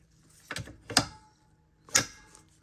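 A Vonhaus 1 x 30 inch belt sander/grinder adjustment being unlocked and locked, three sharp mechanical clicks and clacks spaced apart in an otherwise quiet workshop, close and distinct.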